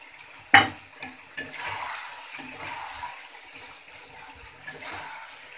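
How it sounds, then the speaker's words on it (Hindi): Chicken liver is stir-fried with ginger, garlic and green chili paste in a pan: a sharp clank of the spoon on the rim, then soft sizzling under a few lighter scrapes and taps. "अब मैं इसमें डाल देती हूँ अदरक लहसुन और हरी मिर्च का पेस्ट।"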